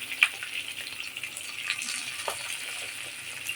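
Potatoes frying in oil with a little salt and turmeric, a soft continuous sizzle with faint clinks, fairly quiet and steady.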